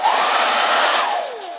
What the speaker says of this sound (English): It's not only a household hairdryer like this